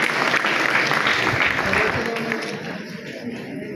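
An audience claps at a school retirement felicitation ceremony, with dense steady applause that slowly thins toward the end and a faint crowd murmur beneath.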